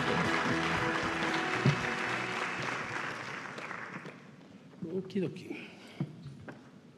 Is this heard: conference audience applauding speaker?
yes